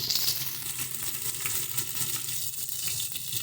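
Green chili paste sizzling in a pan with fried onions for a prawn and potato dish, a bright close hiss with small crackles and stirring scrapes, short and steady, no talking.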